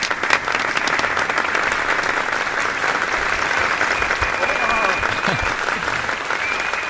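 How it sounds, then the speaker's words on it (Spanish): A television studio audience applauds to welcome a guest to a late-night talk show, a loud continuous wash of clapping that holds steady throughout with faint voices and whoops mixed in. "Es un placer recibir con un fuerte aplauso a Álvaro Espinoza."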